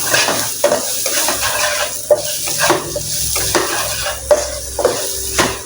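Peanuts stirred in a frying pan, a spatula scraping and clinking against the metal over a steady sizzle, with regular sharp knocks as the pan is worked.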